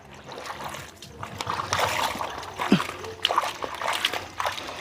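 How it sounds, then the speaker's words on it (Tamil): Jeans soaking in a large basin of water, with sloshing and splashing as the fabric is pushed and moved, close and moderately loud, with intermittent water drips. "ஜீன்ஸை வந்து முதல் ஊற விடுவோம்"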